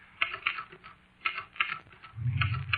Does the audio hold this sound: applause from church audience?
no